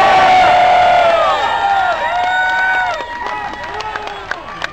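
Enthusiastic crowd cheering and whooping at Rush's Hollywood Walk of Fame star ceremony, a loud dense wall of voices with high shouts that eases off toward the end, leaving scattered whistles and claps.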